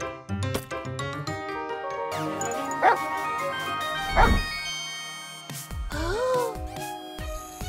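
Cartoon dog in an animated children's show barking in a run of quick yips and bow-wows, close and lively, with whimpers, jingling and music around it.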